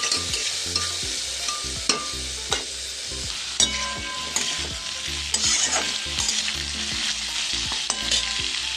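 Broccoli fries in a pan with tomato, turmeric and sugar, a constant close sizzle broken by regular scraping clicks of a spoon stirring.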